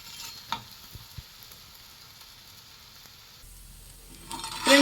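Rice flour roti (akki rotti) cooking on a hot pan, giving a soft, steady low sizzle with a few light taps and scrapes as it is handled and turned, ending in a louder burst of frying noise.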